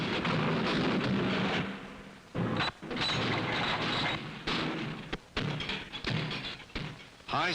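Remington multiple-shot rifles and shotguns, including .22s, being function-fired at a factory test range: a dense run of loud booming reports with short gaps between bursts, close and reverberant, with no talk.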